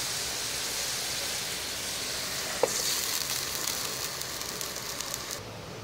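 Clams cook in a covered pan with a steady, even sizzling hiss, broken once midway by a single sharp tap.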